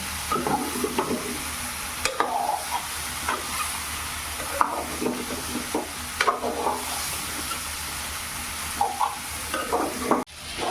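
Mutton liver masala with onion, garlic and ginger paste is stirred in a sizzling pan. A spoon scrapes in repeated close strokes over a continuous frying hiss.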